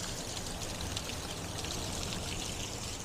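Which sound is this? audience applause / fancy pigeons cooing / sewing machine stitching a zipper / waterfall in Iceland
waterfall in Iceland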